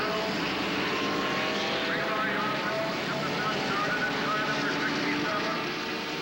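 Turbocharged Ford and Offenhauser race engines on the pace lap of the 1969 Indianapolis 500 make a continuous droning roar that stays steady and fairly loud throughout, with a voice commenting over it.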